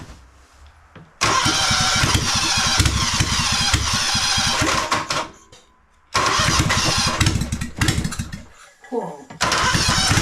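A small salvaged engine is kicked over with a 12-volt solenoid, catching and sputtering loudly in close bursts, cutting out briefly and starting again with uneven popping and revving.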